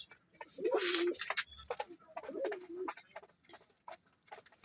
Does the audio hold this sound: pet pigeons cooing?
yes